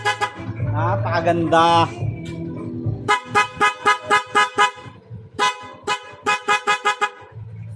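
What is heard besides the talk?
horn of Honda TMX Alpha 125 motorcycle sounding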